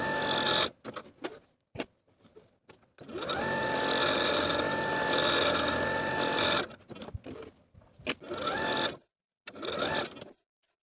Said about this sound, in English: sewing basting stitches to the opposite end of your center back panel